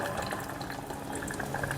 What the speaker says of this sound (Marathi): आता ह्या स्टेजला मी चिंचेचा कोळ घालत आहे